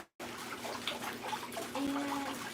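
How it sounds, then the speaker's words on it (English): Water drains from a garden pond during a filter clean-up, a steady rushing, splashing flow that starts abruptly after a brief silence and continues evenly up close. "Okay, we are draining the pond."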